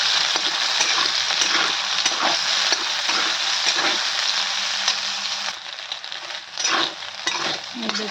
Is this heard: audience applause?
no